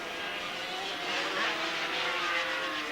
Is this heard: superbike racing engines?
yes